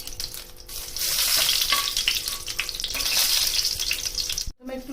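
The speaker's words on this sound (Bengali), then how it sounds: "তেলের মধ্যে একটু কালো জিরে ফোড়ন দিয়ে দিলাম।" Nigella seeds sizzle steadily in hot oil for a pabda fish tel jhal, a loud continuous crackle with faint utensil scrapes that cuts off abruptly near the end.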